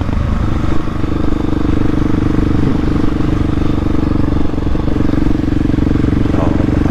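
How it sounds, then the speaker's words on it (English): A Husqvarna 701 supermoto motorcycle being ridden, its engine giving a loud, close, steady drone that holds without a break from start to finish. "Go right on my Husqvarna 701."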